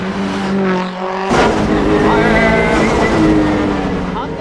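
A stripped-down lightweight touge race car with a modified body drives along a mountain road, its engine loud and close, revving and pulling steadily with a brief lull before surging again.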